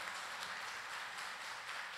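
Steady church congregation applause, a broad wash of clapping that holds at an even level throughout without voices over it.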